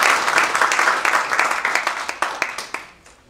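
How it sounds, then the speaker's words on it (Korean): Applause at a New York pastors' association general meeting, dense clapping from a gathered assembly that thins into scattered individual claps and fades out over a few seconds, with no talking. "박수"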